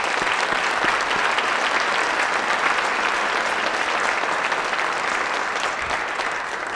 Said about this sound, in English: one round of applause for our seniors,